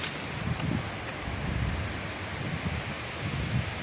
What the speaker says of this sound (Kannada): ಈ ಥರ ಟ್ಯಾಂಕಲ್ಲಿ ನೀರು ತುಂಬ ಚೆನ್ನಾಗಿ ಸೌಂಡ್ ಕೇಳ್ತದೆ